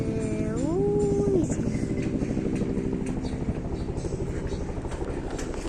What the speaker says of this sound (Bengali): হেলিকপ্টার কোথায়? ওই যে যেতেছে